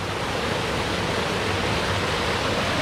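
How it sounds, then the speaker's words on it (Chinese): Mountain stream flowing under a footbridge on a forest hiking trail, a constant dense rushing of water heard close and fairly loud, with no other sounds over it. "现在过一个小溪的桥"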